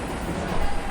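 Bengaluru metro train running, a steady broadband rumble and rattle from inside or beside the carriage, close and continuous for about a second with a slight swell midway.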